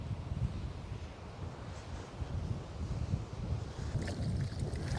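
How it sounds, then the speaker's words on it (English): Strong wind at the beach buffets the microphone with a constant low roar and gusty rumbling, no voices. "Look at the wind. It is pumping this morning."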